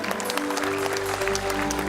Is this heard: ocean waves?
no